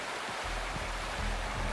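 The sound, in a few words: waterfall in the video game Wuthering Waves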